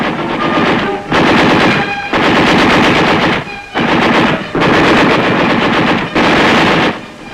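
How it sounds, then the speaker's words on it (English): US forces in Vietnam, fighting alongside tanks, return fire. Loud machine-gun bursts come about five times, each a dense rattle lasting around a second, with brief pauses between them. "The enemy fire is returned by our forces with devastating effect."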